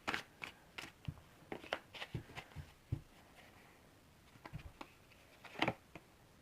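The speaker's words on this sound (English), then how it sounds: "I'm going to go ahead and finish shuffling." Tarot cards are shuffled by hand in soft, irregular taps and riffles, faint and close, with a sharper flurry near the end and no talking.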